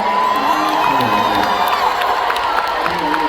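A large concert crowd at a live show in 2025 cheers and shouts loudly and steadily, with whoops and possible clapping woven into the dense roar.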